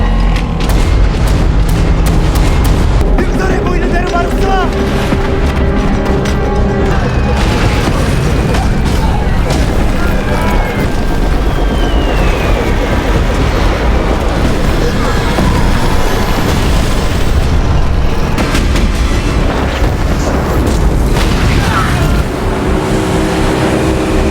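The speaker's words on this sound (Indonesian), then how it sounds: "memerintahkan untuk segera menembakkan meriam artilerinya dan pertempuran pun dimulai" Heavy booming artillery cannon blasts and rumbling explosions from a battle roll continuously over a constant roar, loud and chaotic, with speech faintly mixed in.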